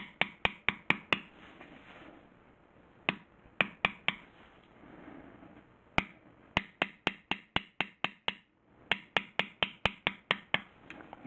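A back beveler tool struck with a mallet on tooled leather, in a steady series of sharp, crisp taps in quick runs with short pauses between, close and clear with no voices.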